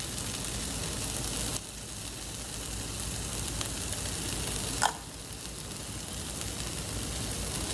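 Sautéed vegetables with tomatoes and green onions sizzle steadily in a hot pan, a close, even frying hiss marked by a single brief scrape of stirring, with no speech.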